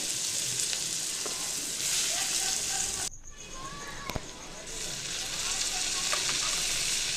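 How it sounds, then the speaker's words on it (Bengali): Panch phoron and chopped onion fry in oil for a thin Bengali katla fish curry, a close, hissing sizzle that briefly drops away midway with a clink, then resumes steadily. "ওই তেলের মধ্যেই পাঁচ ফোড়ন দিয়ে দিলাম অল্প একটু কেটে রাখা পেঁয়াজ কুচো"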